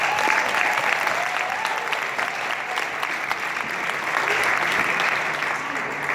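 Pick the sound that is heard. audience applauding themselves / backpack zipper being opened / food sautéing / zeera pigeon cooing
audience applauding themselves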